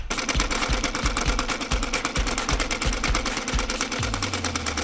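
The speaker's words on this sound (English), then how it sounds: "Next step is stitching the upper." A sewing machine stitches the upper of custom Nike Dunk sneakers, running in a rapid, even mechanical rhythm close up, then slowing into a lower hum near the end, with no voices.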